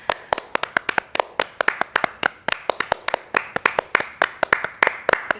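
A group of people clap steadily through a show taping: quick, sharp, closely spaced claps, loud and near, with no talking.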